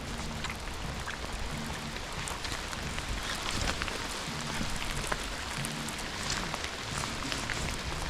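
Steady rain falls outdoors during a creek fishing trip, a dense hiss with scattered drops pattering on nearby surfaces throughout.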